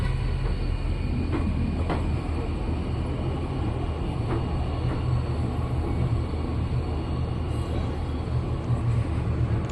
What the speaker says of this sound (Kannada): ಯಶವಂತಪುರ ಜಂಕ್ಷನ್ ರೈಲ್ವೆ ಸ್ಟೇಷನ್ಗೆ ಎಂಟ್ರಿ ಆಗ್ತಿದೆ